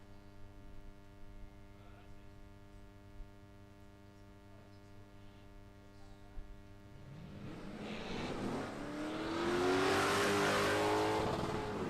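Holden Maloo ute accelerating hard down the drag strip at Palmyra Dragway, engine roar swelling from a distant rumble into a loud rising pass over a constant electrical hum.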